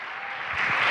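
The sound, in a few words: applause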